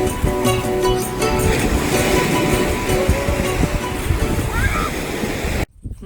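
Sea waves wash onto a shore in a steady, loud broadband rush, with birds calling faintly and people talking over it before the sound cuts off near the end.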